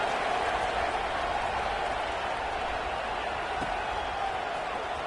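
A steady stadium roar and applause from a College Football 26 video game, a dense, even wash of crowd noise that holds throughout, with faint commentary underneath.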